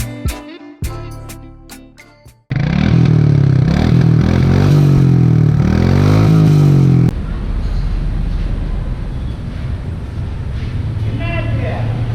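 Royal Enfield Meteor 350 motorcycle, a 183 kg cruiser at a showroom, its engine starting abruptly after a few clicks and thumps, then idling and revving loudly with rising and falling pitch before settling to a steady rumble.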